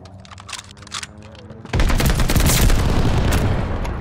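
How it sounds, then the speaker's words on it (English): Allied airstrike in a war video game: scattered shots give way to a sudden heavy roar of explosions and rapid gunfire that keeps rumbling loudly for several seconds. "Allied airstrike coming in hot."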